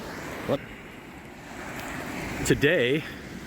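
Waves roll onto an ocean shore on a Sunday morning as a steady broad wash of surf and wind buffets the microphone, with a voice speaking briefly over the noise.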